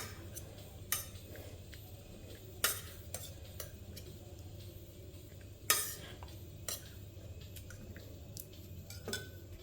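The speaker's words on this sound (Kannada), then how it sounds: "ಇವಾಗ ಬೇಳೆನ ಚೆನ್ನಾಗಿ ಸ್ಮ್ಯಾಶ್ ಮಾಡ್ಕೊಳ್ಳೋಣ." Cooked dal for rasam being mashed in a pot, soft scraping and stirring with a few sharp clinks of utensil against metal spread across a quiet background hum, no talking.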